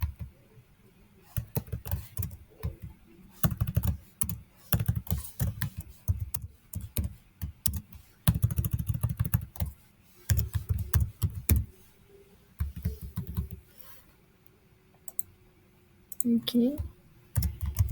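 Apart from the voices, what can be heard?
typing a password on a computer keyboard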